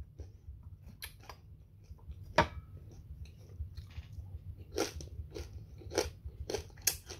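Crispy pork chips dipped in vinegar crunched between the teeth, giving sharp, scattered crackling bites and chewing over a low background hum, louder and denser toward the end.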